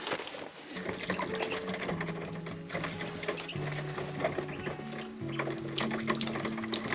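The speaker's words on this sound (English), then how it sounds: "Just gonna give this a squeeze and a shake to make sure the water is out of it." A plastic poultry waterer for quail is squeezed and shaken on a freezing homestead, giving soft sloshing, dribbling water and plastic creaks, faint and close with a few low tonal hums behind.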